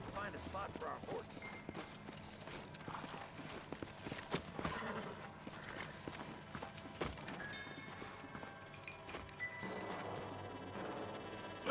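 Horses' hooves clip-clopping in the Western video game Red Dead Redemption, a continuous busy rhythm of hoofbeats at moderate distance, mixed with game ambience and scattered background noise.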